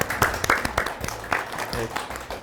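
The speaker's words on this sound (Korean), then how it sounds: "박수 한번 치고 시작할까요?" A group claps together at the start of a Korean panel talk event, a short burst of scattered hand claps mixed with a voice speaking over them.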